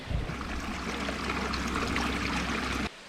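Fresh water stream trickling and gurgling beneath boulders on the Hawkesbury River in winter, a steady close broadband wash that holds evenly for about three seconds, then cuts off abruptly.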